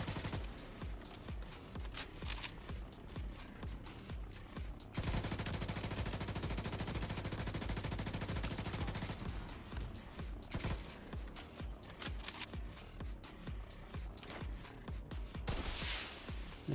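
Sustained automatic gunfire from enemy NPCs in The Division 2, long bursts of rapid shots at close-to-mid range, with heavier continuous firing in the middle stretch and scattered single reports around it.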